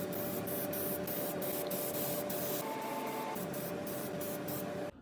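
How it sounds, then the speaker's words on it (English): High-gloss black spray paint hisses from an aerosol can onto a 3D-printed helmet in a steady close spray, broken by a few short pauses near the middle before stopping at the end. "As the base coat, I went in with the high gloss black spray paint"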